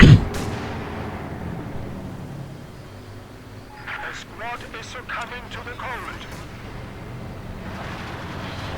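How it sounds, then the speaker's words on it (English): Howitzer artillery fire in the Company of Heroes strategy game: low, booming blasts and rumble under continuous commentator talk. "And there we go, artillery firing in."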